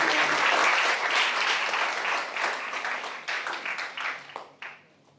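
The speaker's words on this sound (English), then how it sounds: "Give applause." Enthusiastic applause from a crowd fills the room, steady at first, then thinning into scattered claps before fading out.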